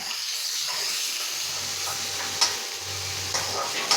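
Chopped onions sizzle and hiss in hot oil in a pan for a lotus stem fry, with a steady close frying sound, occasional stirring clicks and a low hum underneath.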